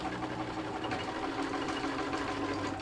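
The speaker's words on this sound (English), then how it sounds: "I'm going to put in a top stitch to hold it back" A sewing machine top-stitches fabric for an animal cushion, a steady, even mechanical whirr with a fine rapid needle pulse, moderately quiet and close, running without pause and without speech.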